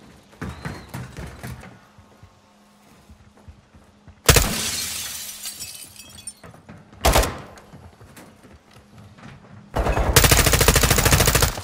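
Gunfire and shattering glass in a Call of Duty sniping mission, with scattered close bursts and cracks, ending in a loud sustained volley of rapid fire.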